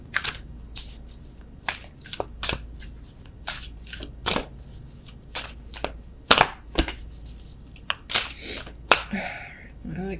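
Wisdom of the Oracle cards being shuffled during a tarot reading, a run of crisp irregular riffles and slaps at close range, some sharp and loud, with quiet gaps between bursts and no talking.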